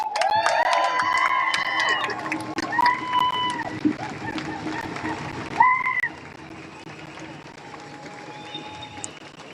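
A lively crowd at an Extinction Rebellion event cheers and shouts with scattered clapping, high excited voices rising over the din, then gradually settling.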